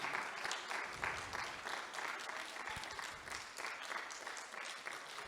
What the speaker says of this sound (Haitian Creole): applaudir chaudement toute l'équipe de First Class